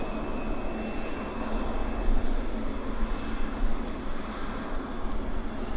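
Boeing airliner engine roaring steadily at an airport, a broad continuous rumble with a faint high whine, loud and sustained throughout with no talk.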